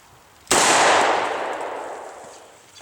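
A single loud, sharp shot from a Taurus Judge revolver fired at a thrown clay target, with an abrupt crack and a long, slowly fading outdoor decay.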